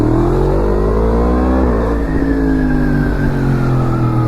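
Yamaha MT-10 motorcycle accelerating hard with its quickshifter, a loud, steady engine roar whose pitch climbs smoothly and steps up through quick gear changes without a break.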